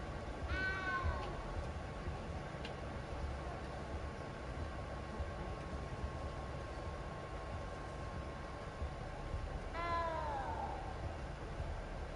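A cat meows twice in a Hogwarts video game, each a short rising-falling cry spaced several seconds apart over a constant rumbling ambient background.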